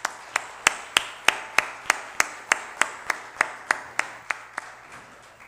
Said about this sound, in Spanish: un aplauso para nuestro ponente